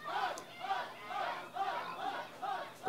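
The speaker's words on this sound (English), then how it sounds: "The crowd yelling for Dirden" Wrestling crowd yelling for Dirden in repeated surging bursts of massed voices, a steady rhythmic swell of chanting and cheering at moderate distance, with no clear single voice on top.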